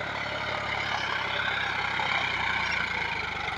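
Steady diesel drone of a John Deere 5105 tractor working a cultivator, loud and close, a constant low churning rhythm with no talk.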